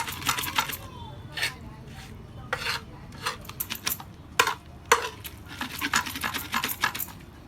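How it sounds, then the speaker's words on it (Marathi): Fried chillies, garlic and salt are pounded and ground with a copper pot for village-style mirchicha thecha, giving irregular sharp metallic knocks and scrapes, close and crisp, with clattering bursts over quiet stretches. "बारीक बी व्हायला तांब्याने असं रगडायचा, म्हणजे बारीक होतो."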